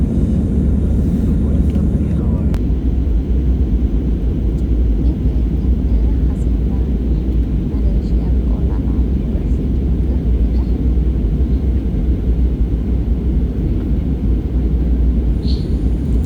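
Steady low roar of an airplane cabin in flight on a Colombo to Langkawi trip, a constant heavy engine drone throughout, with a voice talking over it.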